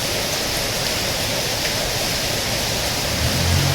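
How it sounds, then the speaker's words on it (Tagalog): Heavy downpour of rain pouring steadily and loudly, a dense unbroken hiss filling the whole stretch with no voices, caught during a motorcycle ride. "biglang bumuhos talaga ang lakas ng ulan"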